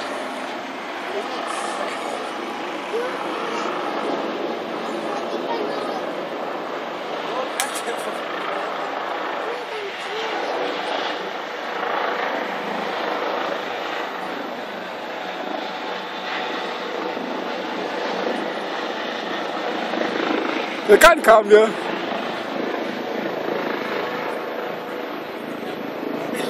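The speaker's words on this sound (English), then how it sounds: "Dude, another fucking helicopter." Police helicopter over Central Park, a steady engine drone that holds from start to finish beneath nearby talking, with a short sharp clatter near the end.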